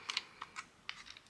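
Small plastic MiSTer FPGA parts snap and tick together in a quick series of faint, crisp clicks as a component is pressed into place on the board.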